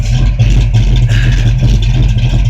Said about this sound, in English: I am loving the exhaust though.